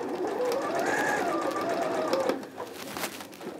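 A sewing machine runs steadily stitching a seam on a pinafore dress, a close, even motor whir that stops briefly near the end before starting again.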